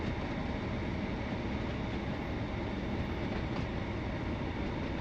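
Northern Rail train pulling away from a station near Middlesbrough in Train Sim World 2, a steady loud rumble of wheels and traction on the rails with faint rattling, continuous and close throughout.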